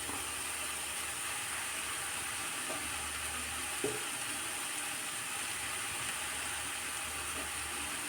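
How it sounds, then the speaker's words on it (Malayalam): A constant soft hiss of steam from a covered pan of banana flower stir-fry, with a faint clink or knock partway through; no voices. "ഇനി ഒരു മിനിറ്റ് ഇതൊന്ന് അടച്ച് വയ്ക്കുക ഒന്ന് ആവി കയറ്റാം"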